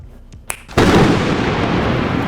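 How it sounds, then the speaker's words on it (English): A lightning thunder sound effect opens with a couple of sharp cracks, then breaks into a loud, sustained rumbling roar that holds steady to the end, with no voices. "if I want to create a lightning sound"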